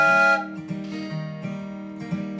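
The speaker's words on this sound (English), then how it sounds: "I brought my handy dandy little train whistle." A short, shrill toy train whistle blast sounds at the start, then a steady reedy tone with rhythmic pulses continues.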